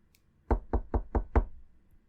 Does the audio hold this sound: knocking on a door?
yes